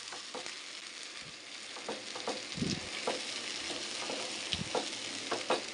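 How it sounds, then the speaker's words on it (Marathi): Onion paste frying in hot oil for a paneer dish, a steady close sizzle with scattered scraping stirs and a couple of low thumps, no talking. "आता त्याच्यामध्ये ना मी ही कांद्याची पेस्ट सगळ्यात पहिले टाकते हे कांदा आपला छान भाजून घेतला पाहिजे"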